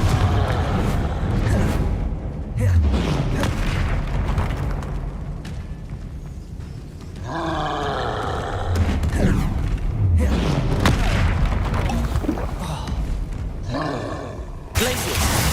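Fiery explosions from the Confringo blasting spell in Hogwarts Legacy go off repeatedly amid a dense, roaring combat mix, with heavy low booms and bursts under a continuous, loud battle din.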